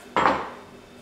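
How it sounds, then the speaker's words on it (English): A single knife stroke chops through onion and capsicum on a board, one sharp close knock with a short fading tail. "Get to chopping up the onion and the capsicum, which are gonna go in the beans"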